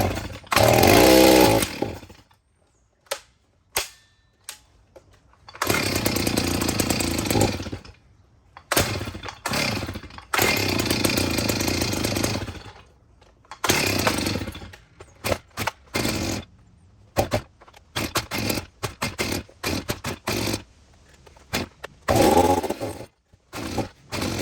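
Stihl chainsaw with a gas leak at the tank top, roaring loud at full throttle in long bursts, dropping between revs and sputtering in short blips, close by with no talk.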